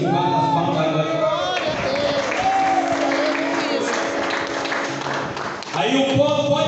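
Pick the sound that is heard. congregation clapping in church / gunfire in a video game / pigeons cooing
congregation clapping in church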